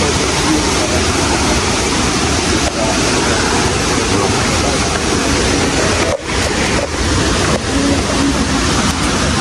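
A tall waterfall roars in a steady, dense rush of falling water, loud and unbroken, with some wind buffeting the microphone.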